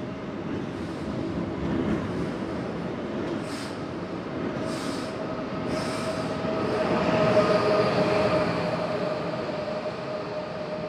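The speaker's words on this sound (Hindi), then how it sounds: "आपसे बातें करते करते हमारी ट्रेन भी स्टेशन पे आ चुकी है।" A high-speed train running from Samarkand to Tashkent pulls into a station with a steady, loud rolling rumble and a faint high wheel squeal. The noise swells slightly near the end, with no talking.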